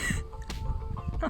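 Hens cluck in short bursts at close range against a low background rumble, with a brief noisy rustle near the middle.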